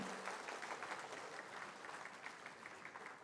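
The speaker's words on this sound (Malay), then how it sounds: "tepukan yang paling kuat pada anda semua" A crowd applauds steadily at a health quality accreditation certificate ceremony in Malaysia, an even wash of many hands clapping heard somewhat distant and faint throughout.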